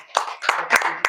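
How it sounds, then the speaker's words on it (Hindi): A small audience at a study-circle discussion gives a few scattered bursts of clapping, four short uneven rounds of hands striking, fairly close and moderately loud with no talk over them. "छोड़ दिया है जिन्होंने, उनके लिए थोड़ी सी ताली बजा दी जाए।"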